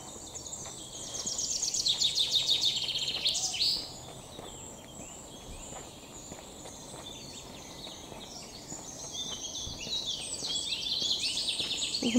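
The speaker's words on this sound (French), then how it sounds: "On entend les petits oiseaux qui chantent." Small birds sing outdoors in bright, rapid chirping bursts, loudest early and again near the end, with quiet stretches between and no talking.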